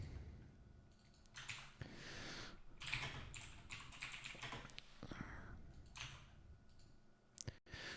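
Quiet clicking keystrokes on a computer keyboard come in uneven bursts and pauses, close and faint, with no speech.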